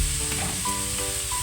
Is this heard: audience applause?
no